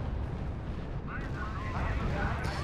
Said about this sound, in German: Und ich schieße noch mit der Artillerie.